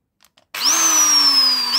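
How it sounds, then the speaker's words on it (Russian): An electric drill with an 18 mm socket spins up suddenly after a few faint clicks and runs at a steady, loud whine, used in a home garage to turn a Delphi diesel injection pump. "дрель, она работает."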